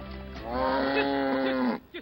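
A single long cow moo from a nomadic herd's cattle in remote Niger, loud and close, rising then falling with a rich harmonic tone, followed by a brief softer grunt.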